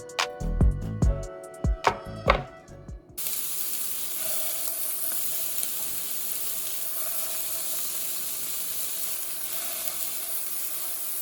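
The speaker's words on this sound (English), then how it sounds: "There's enough beef fat in here that'll basically come out of the meatballs, which will end up cooking it down." Beef meatballs cook in their own rendered fat without oil, giving a steady close sizzle and hiss after a few loud clanks and knocks at the start.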